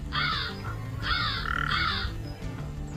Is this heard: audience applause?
no